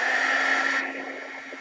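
Heat gun blowing on a shrink film heart charm and metal piercer, a close, loud, steady airy whir with a constant hum that drops slightly partway through.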